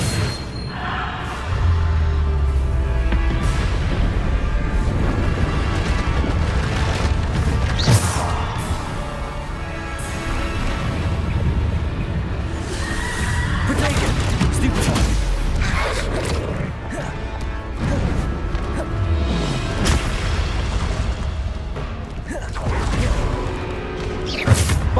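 Bombarda blasting spells in the Hogwarts Legacy game, repeated loud crashing explosions and whooshes mixed with combat clatter and effects throughout the fight.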